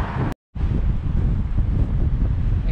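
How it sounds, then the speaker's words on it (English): Strong coastal gusts at Colwyn Bay on the North Wales coast batter the microphone with a heavy, roaring buffet, broken by a brief cut to silence before the blustering resumes. "Incredibly windy here"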